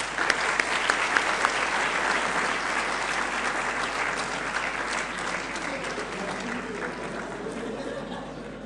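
Warm applause from a lecture audience at a Mines Albi conference, opening with a few sharp near claps and then settling into steady, dense clapping that slowly fades, with faint murmuring in the room.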